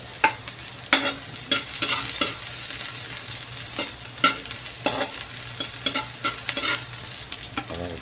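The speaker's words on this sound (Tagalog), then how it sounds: "Lagyan natin yung ating onion there." Onion sautés in a pan for ginisang monggo under a steady sizzle, broken by frequent quick scrapes and taps of a utensil that stirs it at an uneven pace throughout. No voices are heard.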